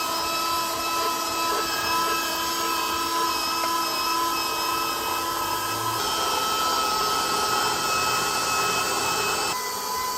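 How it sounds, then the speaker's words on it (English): A KitchenAid grinder attachment grinding meat on a coarse setting, a steady droning motor whine with grinding texture running continuously and evenly throughout, close and loud with no talking. "Turn your grinder on."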